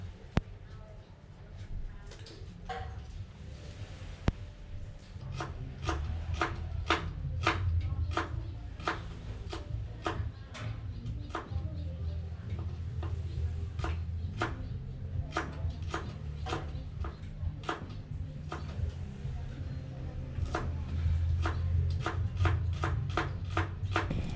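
A knife slices shallots on a cutting board in a rapid, even series of crisp taps that continue for many seconds, close and distinct over a low background rumble.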